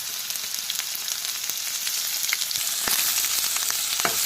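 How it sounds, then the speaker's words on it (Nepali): Close, steady sizzling of cumin, chili, garlic and chopped onion frying in hot oil in a pan for mustard greens, with crackling pops that swell partway through. "मैले प्यानमा तेल हाले अनि थोरै जीरा फुराए अनि खुर्सानी अनि यो लसुन र प्याज"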